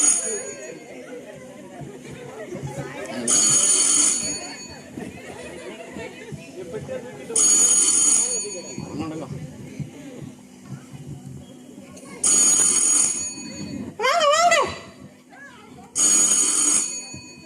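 A phone rings in repeated bursts, the rings spaced a few seconds apart, while people talk throughout.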